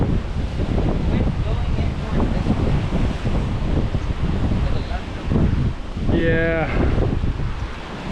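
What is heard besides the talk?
strong wind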